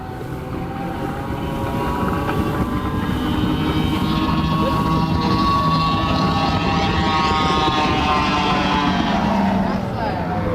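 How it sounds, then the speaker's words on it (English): Drag race boats launching on Timms Ford Lake, a loud sustained engine roar with rising, sweeping tones that holds across the whole stretch and swells slightly near the end. "Jerry Freeman, flag in the air, drops it, and they launch out of there, burning up the liquid quarter mile here today on Timms Ford Lake"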